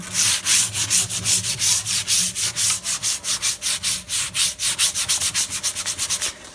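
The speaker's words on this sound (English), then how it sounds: "I got my sandpaper here and I've already started doing some light distressing on the edges" Sandpaper of 150 grit rubs back and forth along painted wood edges, making a steady, close, rhythmic scratchy sanding with quick even strokes throughout.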